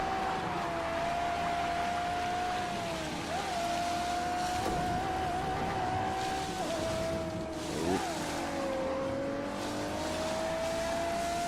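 A car engine in The Grand Tour video game holds a steady, droning whine that dips and rises slightly as the car corners, continuous and fairly loud, with a voice talking over it.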